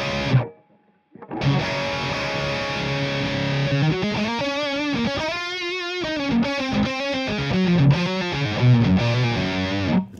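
Electric guitar through an AmpliTube Orange amp, played dry with the reverb switched off, gives a heavily distorted, loud run of sustained chords and bent notes after a brief gap.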